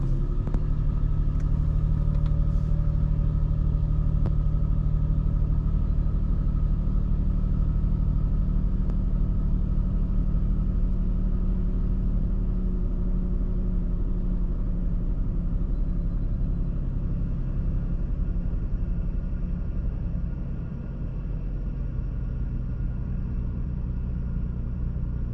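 A car engine just cold-started with a push button, idling in neutral with the clutch out: a steady, loud low rumble that holds level for the whole stretch, close by with no voices.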